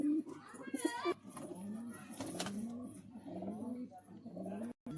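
Pigeons coo close by in soft, throaty, repeated calls, with some rustling and a short fluttering burst mixed in.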